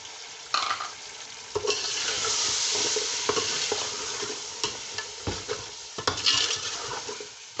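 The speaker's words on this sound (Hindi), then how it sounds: "अब एक मैं प्याली इसमें दही डाल रही हूँ" Rice pulao fries in a pot as yogurt goes in, giving a continuous close sizzle with repeated clacks and scrapes of a spoon stirring against the pan.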